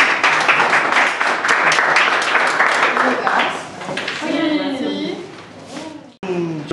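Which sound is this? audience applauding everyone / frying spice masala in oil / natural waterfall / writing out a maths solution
audience applauding everyone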